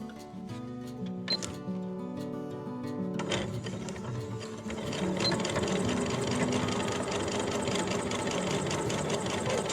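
A sewing machine runs a tight stitch along the bottom edge of a fabric piece, its rapid rhythmic clatter continuous throughout, starting lighter then growing louder and steadier partway through, with no talking.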